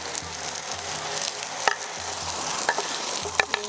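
Chopped greens tipped into hot oil and stirred in a pan, giving a steady close sizzle and frying hiss with a few sharp stirring clinks, no voices.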